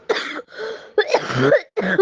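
A quick series of four harsh coughs close to the microphone, coming in rapid bursts with short gaps between them.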